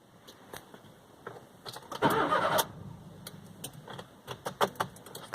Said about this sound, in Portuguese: Da partida no gol aqui.